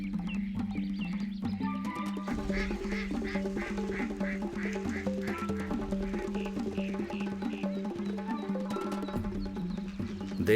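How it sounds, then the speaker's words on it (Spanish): Ducks on a lagoon, with repeated quacks rising over a busy, continuous background of many birds calling at once, heard fairly faintly and without speech. "Los patos son las aves más representativas y abundantes de los humedales."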